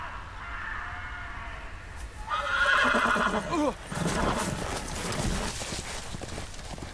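A horse neighs and whinnies loudly in the middle, with hoof clatter and game ambience around it from the Telltale Game of Thrones video game, a brief voice mixed in faintly.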